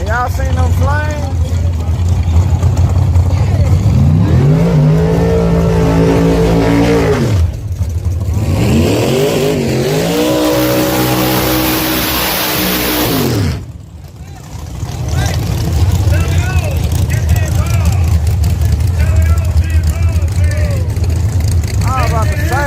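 Drag racing car doing a big burnout at Yello Belly Racing Park, loud engine revs sweeping up and down over a steady low rumble, interrupted by short breaks, with voices talking over it.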